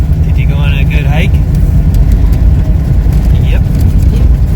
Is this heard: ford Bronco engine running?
yes